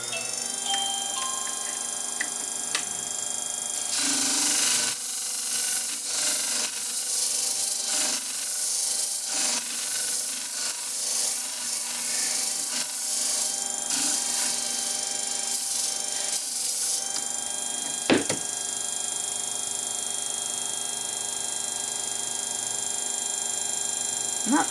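Garden shears being polished on a worn 800 grit sharpening stone, a steady rubbing and scraping that runs continuously for about fourteen seconds before settling into a low, even hum.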